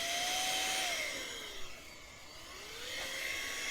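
Cordless compressed air duster blows in a steady whirring hiss, its motor pitch sliding down and then climbing back as the trigger eases and presses, close and moderately loud, no one speaking.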